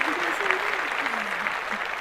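Brief applause during a podcast recording, a steady wash of claps lasting about two seconds with a voice sounding over it.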